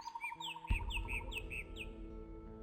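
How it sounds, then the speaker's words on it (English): Loud chirping birds from the ambient soundscape of the video game Gothic 2, a busy overlapping run of bright tweets and trills with background music and a soft thud, no talking. "Such loud birds."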